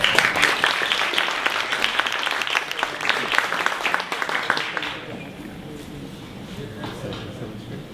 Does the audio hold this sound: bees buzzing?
no